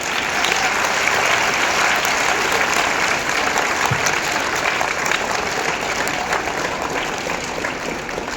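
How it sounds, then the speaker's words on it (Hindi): School children clap together for their school, a dense, loud and steady burst of applause that carries on evenly for several seconds. "अपने स्कूल के लिए ताली बजा के दिखाओ।"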